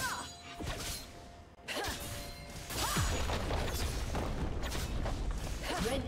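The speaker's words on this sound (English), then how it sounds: "Blue team's turret has been destroyed." A turret is destroyed in League of Legends during a Fiora versus Tahm Kench top-lane match, heard as crashing, booming impacts and whooshing effects layered over busy, continuous game sounds.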